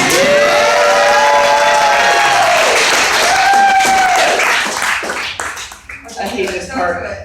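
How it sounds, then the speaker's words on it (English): An audience applauds and cheers after a magician's blindfolded Rubik's cube solve, loud dense clapping with whoops under overlapping voices, thinning out toward the end. "why are not more people clapping?"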